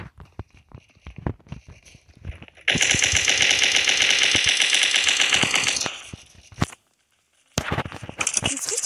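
Gunfire in the Blockstrike video game: scattered single shots and clicks, then a long rapid automatic burst of about three seconds, a pause and a brief silence, then more quick shots.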